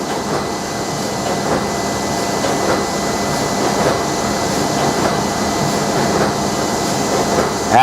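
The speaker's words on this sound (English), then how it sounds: "The machine is setting up for this thickness." A Horizon SB-09 smart binding machine adjusting itself for book thickness, giving a steady, loud mechanical hum and whir with faint rhythmic clicks running unbroken throughout.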